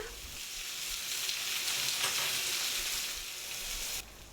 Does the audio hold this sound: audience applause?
no